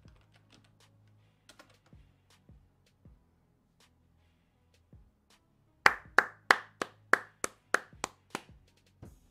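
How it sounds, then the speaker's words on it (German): Applause at an online game's Olympic closing ceremony sounds as a burst of about ten sharp, evenly spaced claps, preceded by scattered soft keyboard-like taps in an otherwise quiet setting. "Großen Applaus"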